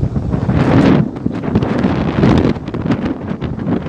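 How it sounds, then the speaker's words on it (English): Strong wind buffeting a microphone while someone walks outdoors, producing loud, gusting rumbles and rustling throughout. "I think I'm walking up to the wind."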